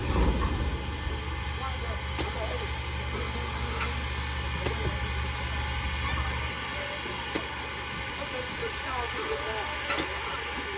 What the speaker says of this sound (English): We must now line our locomotive up with track number 2 while our train sits on track number 1.